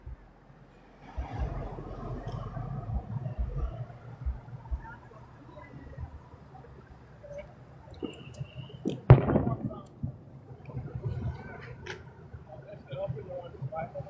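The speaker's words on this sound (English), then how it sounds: "Heard a firework." A single sharp firework bang cracks out partway through, distant and brief, against a low murmur of outdoor ambience and faint voices near a parade.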